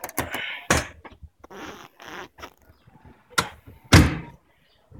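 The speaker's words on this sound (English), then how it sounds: "Let's put in the seat back." The rear seat of a Jeep Wrangler Rubicon with a half roll cage is put back in place, giving several sharp thuds and clunks, with scraping and rustling between them.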